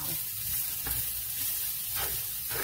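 Western hash sautés in a pan with a steady loud sizzle, broken by a few scraping stirs, close up with no talking.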